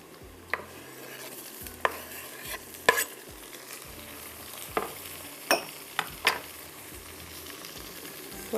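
Tomatoes are stirred into browned onions in a hot pan, giving a low sizzle broken by sharp scraping and clacking of a spoon against the pot at irregular intervals, close up with no talking.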